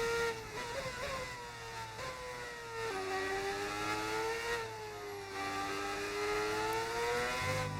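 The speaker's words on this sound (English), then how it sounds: "Is the engine a little too loud, or" Race car engine in an F1 video game, a continuous high-pitched whine that rises and falls with gear shifts and throttle changes, held steady and fairly loud with no talking.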